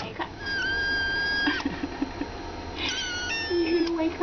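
Several kittens meow in short, high, plaintive cries that overlap and repeat, close by and fairly loud, with soft background noise and a few light taps.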